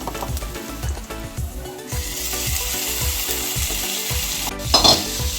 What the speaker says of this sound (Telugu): ఇప్పుడు ఇవి బాగా ఫ్రై చేసుకుందాం ఫ్రై అవుతుంది కదా